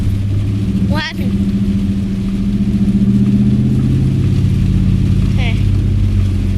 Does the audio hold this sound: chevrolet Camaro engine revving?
yes